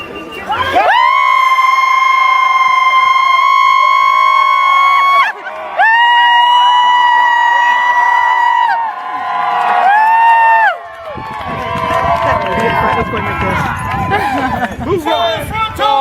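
A theatre audience at a comedy performance of Macbeth whoops, cheers and shouts on cue, a loud, sustained roar that swells in bursts before settling into a lower rumble of noise.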